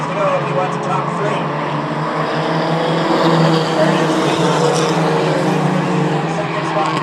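Mighty trucks race around Star Speedway in a feature event, producing a steady, dense roar of engines from the track under continuous commentary.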